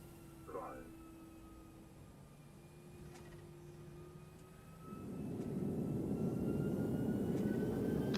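A simulated ToLiSs A321 airliner lands in X-Plane 11: a steady engine drone with a brief automated callout early on, then a louder rumbling roll begins after touchdown and holds to the end.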